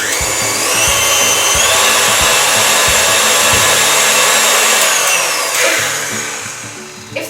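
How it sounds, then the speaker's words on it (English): Stand mixer whizzing soft butter into Italian meringue buttercream, a loud steady motor whine close by that slows and fades near the end. "I'm just going to pop that into the mixer, and I'm just going to leave it whizzing for about 30-35 seconds"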